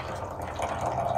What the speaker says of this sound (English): So you decantate it this way, you see? Only the water